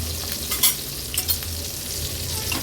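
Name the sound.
pomfret roe frying in a pan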